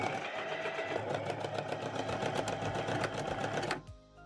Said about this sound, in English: head to the sewing machine, do a little back stitch to secure your thread